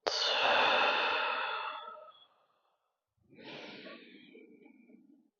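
Slow, audible breaths during a chair yoga session for the lower back, a long airy exhale fading out, a pause of silence, then a softer second breath, close and alone with no talk.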